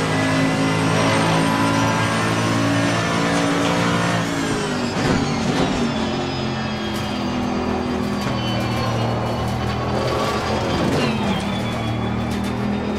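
A Mercedes-AMG GT3 race car engine howls around Silverstone in the racing game Assetto Corsa Competizione, loud and close, with sustained high revs, sweeping pitch drops through gear shifts and braking, then climbing again.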